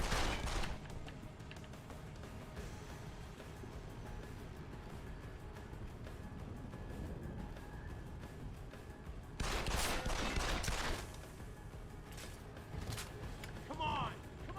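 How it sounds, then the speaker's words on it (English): Deus Ex: Human Revolution gameplay with bursts of in-game gunfire, including a loud fusillade near the start and another around the ten-second mark, set against a steady game soundscape while a player talks throughout. "Fucking gunshots!"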